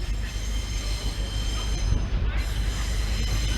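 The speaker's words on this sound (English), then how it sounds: "There's also two Pacer trains, class 142s" Class 142 Pacer trains move slowly through Manchester Piccadilly station, giving a steady, continuous low rumble of diesel engines and rolling stock with a faint high squeal of wheels on rail.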